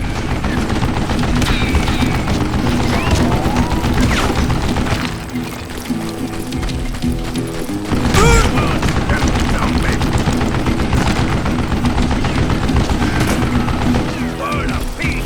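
Sustained machine gun fire in a Call of Juarez: Gunslinger shootout, a loud, continuous rattling barrage with occasional heavier booms cutting through.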